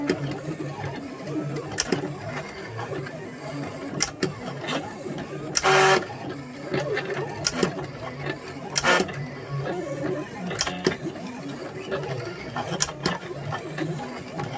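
A Silhouette Gemini Junior die cutting machine works through textured cardstock with a steady whirring and clattering, with a few sharp mechanical bursts along the way.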